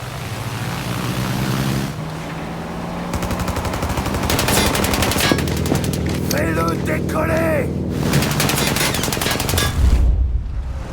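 Sustained automatic gunfire in Mafia Definitive Edition, loud and continuous with vehicle roar and engine noise beneath, while voices shout over the action.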